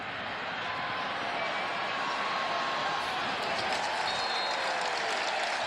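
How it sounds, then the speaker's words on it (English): A college football stadium crowd at Arizona State versus Wisconsin roars in a steady, broad cheer that holds for several seconds and sounds distant and washed out. "a cheer goes up as he's taken down at the 25"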